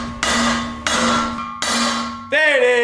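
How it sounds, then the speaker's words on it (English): A hammer strikes a stuck car drive shaft, three loud metallic blows with ringing decay, followed by a final clanging hit that sets the metal ringing. "I've beat the shit out of this with the hammer"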